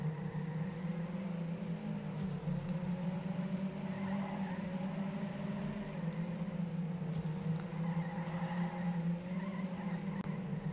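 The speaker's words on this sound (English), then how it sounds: "Irvin drifts." A car drifting in a racing video game: a steady engine drone with sustained tire squeal, holding a constant pitch with slight wavers throughout, fairly loud and alone.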